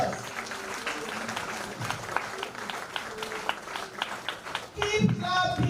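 An audience at an International Women's Day event claps in a moderately loud, uneven round of applause with distinct individual claps, and a voice rises over it just before the end.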